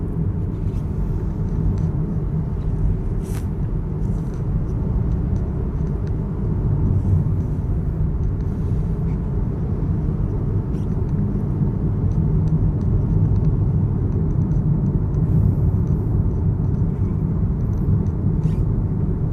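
A lowered Mazda CX-8 on KIDO Racing strut suspension rolls over a coarse, rough road surface, giving a steady, close, dense rumble of tyre and road noise with faint engine hum and no talking.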